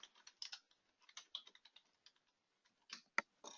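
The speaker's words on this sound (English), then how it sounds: "This is where you would type in the question." Typing on a computer keyboard while entering a question into an online application form, a quick run of light keystrokes with brief pauses and one sharper key hit near the end, no talking.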